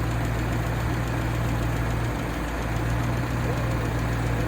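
A Renault 16 engine idles steadily and close up, a continuous low rumble with a rhythmic knocking throb and no voices.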